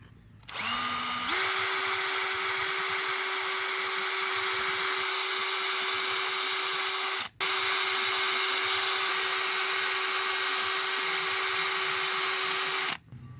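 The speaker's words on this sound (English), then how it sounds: "Now I'm going to start out with my 1/16 inch drill bit." A power drill with a 1/16 inch bit drills holes in wood, whining up to a steady high pitch and holding it, with one brief break midway before winding down.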